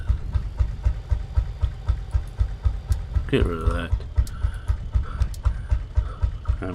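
A preserved railway engine idling at a museum, a rhythmic chuffing pulse repeating steadily and close, with a brief hiss and someone speaking over it.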